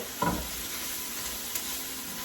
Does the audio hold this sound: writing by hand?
no